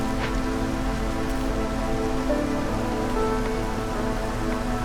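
Storm rainfall in the city-building game Against the Storm, a steady dense hiss of rain pattering on surfaces that holds evenly throughout, with no voices over it.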